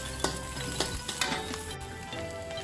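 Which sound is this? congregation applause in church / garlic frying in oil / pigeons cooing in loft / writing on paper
garlic frying in oil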